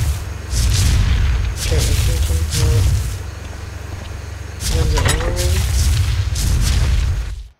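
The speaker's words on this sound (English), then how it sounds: "they made a pump action shotgun" A pump action shotgun firing in Ark Survival Evolved: several heavy, booming blasts spaced a couple of seconds apart, loud and close, each trailing into a low rumble, with someone talking in between.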